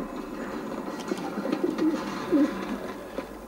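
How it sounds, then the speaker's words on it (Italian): Pigeons coo in a scene of the video game Alice: Madness Returns, giving soft, low, repeated coos over a steady ambient background at moderate volume. "Siamo dai piccioni."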